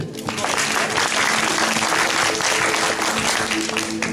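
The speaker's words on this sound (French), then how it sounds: "Vous pouvez tous applaudir Théo." An audience at a mentalism stage show applauds continuously, a dense, steady wash of many hands clapping that holds at an even loudness for the whole stretch, with a faint low hum beneath.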